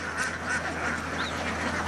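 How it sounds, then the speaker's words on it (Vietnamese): A large flock of free-ranging ducks quacks continuously in rice fields in the Mekong Delta, forming a dense, noisy wall of overlapping calls with no clear individual voices. "những đàn vịt chạy đồng từ các tỉnh khác của miền Tây đổ về"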